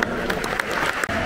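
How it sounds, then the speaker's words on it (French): Stadium crowd applauding in tribute at a Stade Brestois versus RC Lens football match, a broad sustained roar of clapping with a few louder bursts standing out. "je vous demande de vous lever en respectant une minute d'applaudissement à la mémoire d'Alain Rouet."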